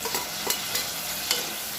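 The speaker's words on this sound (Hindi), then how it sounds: "लहसुन और प्याज और हरी मिर्च पक गई है, तो मैं इसमें मीडियम साइज़ का टमाटर डाल दूँगी कटिंग किए हुए" Chopped medium tomato stirred into garlic, onion and green chili frying in a cooker pot, a close steady sizzle with periodic scraping spoon strokes.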